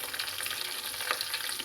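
Bay leaf, cinnamon and green chilies fry in hot oil for chicken biryani, giving a close, continuous bright sizzle with fine crackles and a brief stir, no voices.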